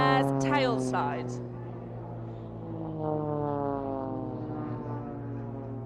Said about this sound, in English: Blades 1 and 4 throttling back there, allowing the power to die as they fall out of that manoeuvre and fly away for the next part of the display